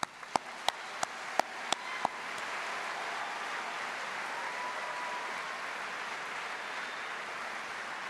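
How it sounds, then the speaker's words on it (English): A large graduation audience applauds at a university art, film and media ceremony; a few sharp separate claps open before a steady, dense wash of clapping fills the hall and carries on evenly. "I'm going to start by giving you a round of applause."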